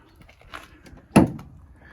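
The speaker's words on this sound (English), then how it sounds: "We have a side loading door here" A van's sliding side door is pulled open, a brief rumble ending in a solid clunk, close by and loud.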